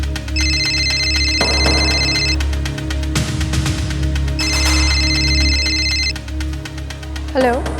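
A telephone rings twice in electronic bursts over a steady background drone and bed of music, with a brief thud between the rings and a short rising tone at the end.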